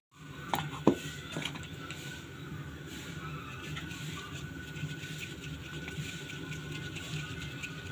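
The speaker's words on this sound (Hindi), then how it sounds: "अब हम इसमें सारे मसाले मिक्स करते हैं।" Spices of cumin, salt, garam masala and black pepper are mixed into boiled, mashed potatoes for aloo paratha, giving soft utensil clinks and a couple of sharp taps early, then quiet, steady scraping and patter.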